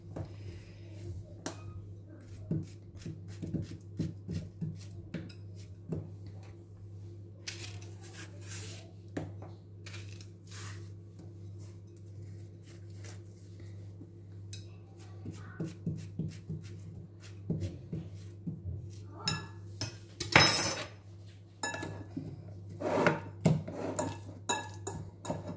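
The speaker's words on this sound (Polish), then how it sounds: "Rozdrabniamy, słuchajcie, widelcem w osobnej misce, żeby nam powstała taka jakby masa bananowa." Ripe-ish, still firm bananas being mashed with a fork in a separate bowl for banana cake, giving a steady run of close clinks and scrapes of metal on the bowl with soft squashing and a constant low hum underneath.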